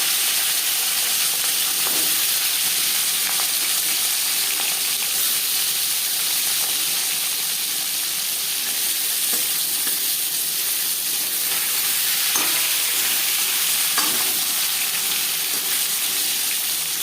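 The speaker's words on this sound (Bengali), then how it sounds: "4 চামচ রিফাইন্ড অয়েল গরম করে নেওয়ার পর দিয়ে দেব ম্যারিনেট করে রাখা মাছ।" Marinated fish, likely katla, frying in four spoons of hot refined oil, a steady close hiss and sizzle running unbroken throughout with occasional faint pops.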